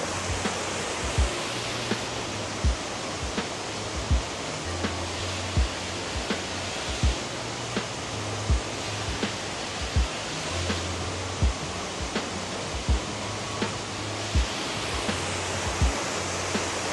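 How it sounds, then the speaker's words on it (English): A waterfall at Disney's Animal Kingdom on the day before a hurricane, a loud, even rush of falling water heard close, with a recurring low thump pulsing through it and no talking. "Hear the waterfall."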